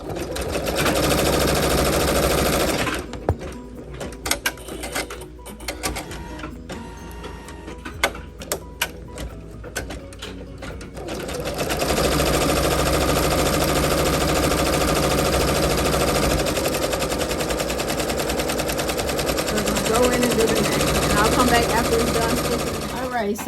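A Janome MB7 embroidery machine stitches a name onto a backpack tag with a loud, steady mechanical whir. It drops out for several seconds of scattered clicks and taps, then resumes its continuous stitching hum.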